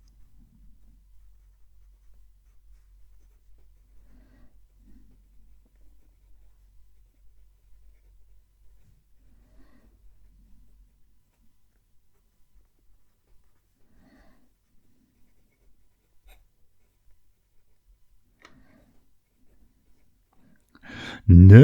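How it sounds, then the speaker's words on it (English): A Serendipity dip pen loaded with Diamine Tinsel fountain pen ink scratches softly across paper in faint, steady strokes, with a sudden loud burst of noise at the very end. "We've got the Serendipity dip pen. Let's write the sentence."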